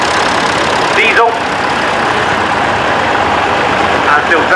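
Ford diesel tractor idling at a tractor show, a steady mid-pitched engine rumble running continuously and close, with brief chirping sounds over it.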